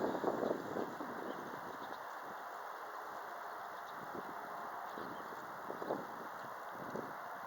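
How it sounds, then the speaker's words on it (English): Strong, heavy wind blows steadily outdoors, a low muffled rumble buffeting the microphone with faint gusting swells throughout. "Here it is. The heavy wind."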